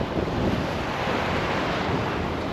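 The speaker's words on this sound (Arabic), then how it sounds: "صوت البحر لحاله راحه نفسيه." Sea waves wash continuously along the Syrian coast, a steady broadband surf roar with some wind buffeting the microphone, with no voices present.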